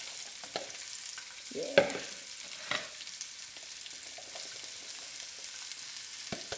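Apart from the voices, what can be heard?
onion and pepper sautéing in oil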